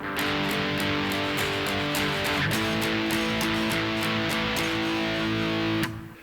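Electric guitar under heavy distortion chugging a power-chord riff, loud and sustained with regular rhythmic accents, ringing out before cutting off near the end.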